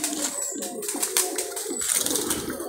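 Pigeons cooing at close range in a coop at feeding time, soft repeated low coos running continuously with scattered higher chirps and light rustling, no talk.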